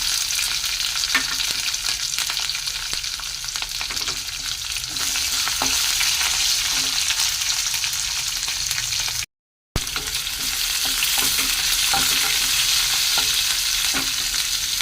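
Curry leaves, dried red chillies, garlic and onions fry in hot oil, a loud, steady crackling sizzle that runs nearly unbroken, with light stirring scrapes and one short dropout in the middle.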